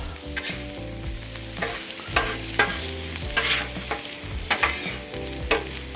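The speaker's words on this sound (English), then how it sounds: "So we'll season this over and mix them around." Seasoned chicken tossed and mixed on a Blackstone griddle, a loud steady sizzle punctuated by rhythmic spatula scrapes and clanks on the flat steel top, close up with no voices.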